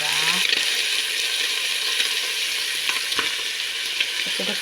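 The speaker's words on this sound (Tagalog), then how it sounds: "Nag-golden brown na po yung ating hotdog. Ilalagay na natin itong gulay." Hotdog pieces and vegetables fry in a pan for sopas, giving a steady, loud sizzle close by with occasional scraping and clinks of stirring, the hiss continuing unbroken throughout.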